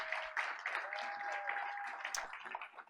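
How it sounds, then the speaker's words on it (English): Audience applause for middle school honorees at a board of education meeting, a steady wash of many hands clapping throughout, with a faint sustained tone running underneath. "Let's give another round of applause to all of our honorees from Chavez Middle School"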